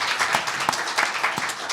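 Applause from attendees at the close of a Kwanhun Forum talk with a former US special representative for North Korea policy; a moderate crowd clapping with distinct individual claps standing out, steady and close.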